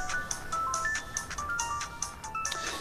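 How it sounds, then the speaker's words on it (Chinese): A telephone ringtone plays a quiet, repeating melodic pattern of bright beeping notes, roughly six evenly spaced phrases, alone without talk. "接电话"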